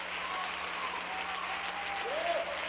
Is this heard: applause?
yes